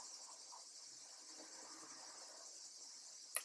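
A constant high-pitched buzzing drone of cicadas, steady and fairly faint, with a brief click near the end.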